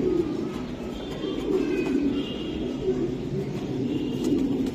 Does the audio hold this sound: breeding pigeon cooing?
yes